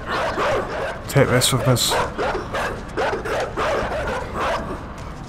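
Dogs bark and yip in the video game INSIDE, several sharp, close yelps in a quick cluster while someone talks over the game sounds.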